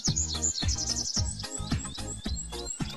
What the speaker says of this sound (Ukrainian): Птахи співають, аж заслухаєшся.